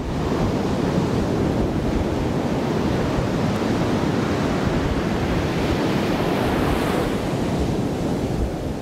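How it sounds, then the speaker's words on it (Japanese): Sea waves on the eastern coast of a stretch of shoreline in Hyogo, Japan, rolling as a steady, loud, continuous surf wash with wind buffeting the microphone throughout, no voices. "続いては東側の木の先の海です。"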